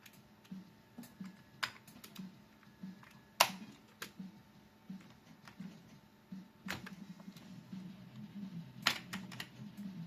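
Keys clatter on an Amiga 500 computer keyboard in irregular bursts, with a few sharper, louder strikes among softer taps over a steady low hum, close and without talk.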